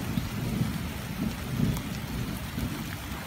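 Heavy rain pours steadily and densely on the ground in a thunderstorm at night, with low rumbling beneath the close, continuous downpour.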